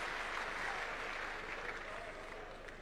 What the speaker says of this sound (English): A round of applause for Powerman.